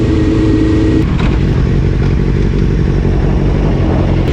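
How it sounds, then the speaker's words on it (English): A group of motorcycles rides past on a road, heard from a rider's helmet as loud, continuous engine roar and wind rumble with a short rev change early on. "there's a bunch of bikes"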